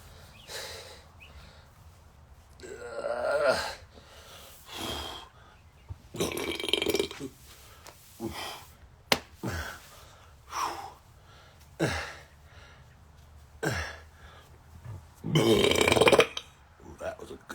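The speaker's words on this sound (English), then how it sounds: "Ooh, that was a good burp." Several loud, close burps from a person erupt one after another at irregular intervals, with quiet breathing and small sounds between them.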